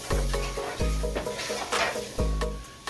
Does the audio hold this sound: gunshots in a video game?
no